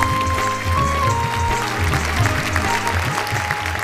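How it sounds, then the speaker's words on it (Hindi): Audience at a staged poetry comedy show applauds loudly as two guests are called onstage, a dense steady roar of clapping filling the hall, mixed with a low musical tone. "मैं चाहूंगा दोनों इस मंच पर आएं, जोरदार तालियां बजाएं।"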